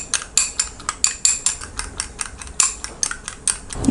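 Eggs with onion and pepper are whisked briskly in a bowl, a quick run of sharp metallic clinks against the sides in a steady, slightly uneven rhythm, close and clear with no talking.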